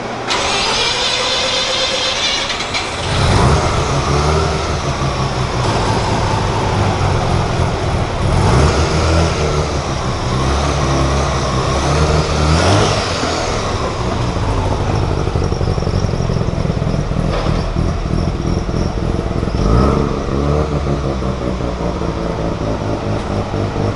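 A turbocharged Mazda FC RX-7 rotary engine without a muffler starts and runs on a dyno, holding a loud steady idle with a few rising and falling revs throughout.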